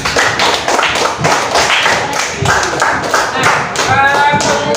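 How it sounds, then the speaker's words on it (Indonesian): A classroom of students applauding the presenting groups, a loud continuous burst of many hands clapping close by, with some voices and cheering mixed in. "untuk semua kelompok kita kasih aplaus dulu"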